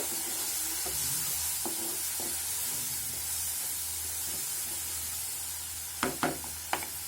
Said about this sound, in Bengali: রোস্টের মশলা দিয়ে আমি আরেকটু নাড়িয়ে নিব।